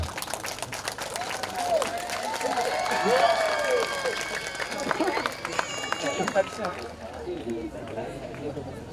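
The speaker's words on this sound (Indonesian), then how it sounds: "Tepuk tangan untuk beliau ini." A crowd applauds at the soft opening of a botanical garden, a ceremony for a regional official, with busy clapping mixed with cheering, murmurs and voices before the noise thins out in the last few seconds.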